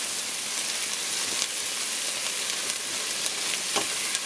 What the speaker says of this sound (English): you add this anchovy paste and you chop it up and you mix it in very well, and it'll coat the onions